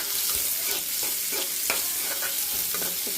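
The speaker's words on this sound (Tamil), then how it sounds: "கடுகு போட்டுக்கலாம் கருவேப்பிலை போட்டுக்கலாம் வெங்காயம் போட்டுக்கலாம் நல்லா வதக்கிடலாம்" Mustard seeds, curry leaves and chopped onion fry in a hot pan for a coconut-milk rice and prawn kurma, a steady loud sizzle with scattered crackles and pops and the scrape of stirring, no voices.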